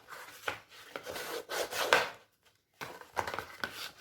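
Paper being burnished down after pasting onto a handbag-style album, a dry rubbing and scraping in several short bursts with a brief pause midway, close and fairly quiet.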